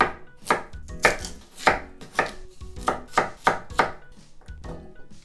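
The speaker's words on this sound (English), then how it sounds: "daikon radish, I'm gonna use just about a third of this. And then just cut into bite-sized pieces" A knife chops daikon radish into bite-sized pieces on a cutting board, making about a dozen crisp, close, evenly spaced thunks in a steady rhythm.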